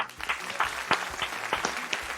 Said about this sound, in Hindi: ladies and gentlemen. Give a big hand.